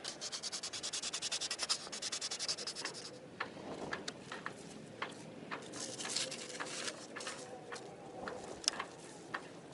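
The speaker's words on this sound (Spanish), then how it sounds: "Los vamos a limpiar. Limpiamos, bien limpios." Parts of a Lofrans anchor windlass are rubbed clean during maintenance, first a rapid rhythmic scrubbing, then slower scattered scrapes and light taps, close and fairly quiet.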